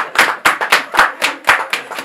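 Close, loud rhythmic clapping in steady beats, roughly four per second, with no talk.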